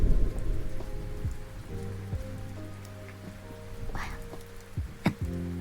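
Steady rain patters on a surface with a low continuous rumble beneath it and a few sharper drips and knocks near the end, no voices.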